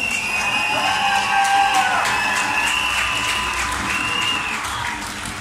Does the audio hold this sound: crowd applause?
yes